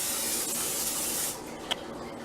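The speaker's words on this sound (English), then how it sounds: "we're going to take a 9x13 pan and we're going to spray it." A steady hiss of cooking spray from an aerosol can onto a 9x13 baking pan lasts just over a second, then stops, followed by a single small click.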